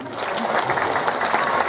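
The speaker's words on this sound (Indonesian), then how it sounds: "tepuk tangan." A crowd in Cimahi, Indonesia, claps steadily for a mayoral candidate in a brief burst of applause, dense and fairly close.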